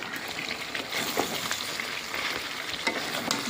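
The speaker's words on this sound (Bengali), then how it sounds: "আলু দিয়ে একটু কষাবো, কষিয়ে তারপরে জলটা দিতে হবে।" Chicken and potatoes fry in hot oil while being stirred, a dense, close crackling sizzle with scraping stir sounds throughout and no voices.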